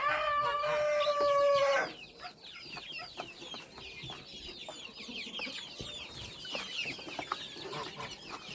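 A rooster crows briefly, then many young chicks peep and cluck continuously around a farm yard, the chirps faint and scattered.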